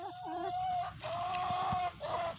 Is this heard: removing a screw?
no